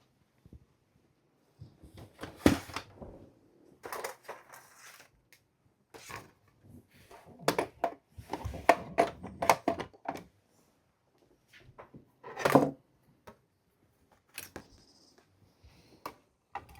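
Paper card being die cut for a waterfall gift card holder, heard as scattered short handling clicks, taps and rustles at close range with pauses between, no talk.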